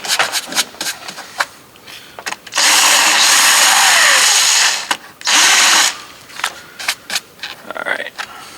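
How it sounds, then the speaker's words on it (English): A power drill whines in two bursts while drilling plastic, one long and one shorter, with clicks, handling noise and someone talking between them. "Doesn't even drill through plastic."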